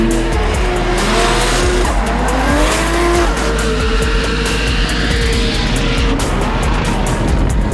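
A Formula Drift Pro Championship race car drifting in the final round of round 8, its engine roaring steadily with continuous tire squeal and skidding, loud and close without a break.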